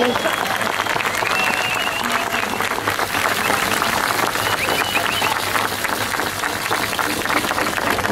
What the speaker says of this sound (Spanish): Un aplauso a Jesús y a nuestra Madre del Cielo.